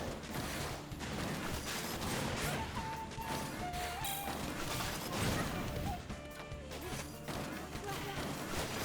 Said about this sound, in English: Lots of explosions here and there.